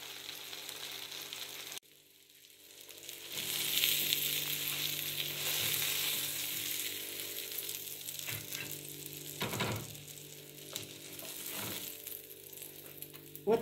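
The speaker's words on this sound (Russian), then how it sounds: "И на горячую сковороду." Bread toasts with topping sizzle and fry in a hot pan, a steady crackling hiss that starts after a brief quiet moment and continues close up with small pops and stirring scrapes.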